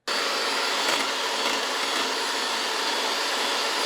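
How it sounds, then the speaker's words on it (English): An electric mixer beats egg yolks with a loud, steady, close whir that runs without a break for about four seconds. "we're going to beat the egg yolks till they change color"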